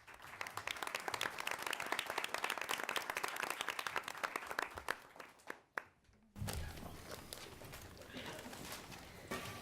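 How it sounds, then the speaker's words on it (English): Audience applause fills a school achievement assembly hall, dense steady clapping for several seconds that briefly thins, then resumes with a louder burst and carries on to the end. "Let's have a big round of applause for our Haigh heroes."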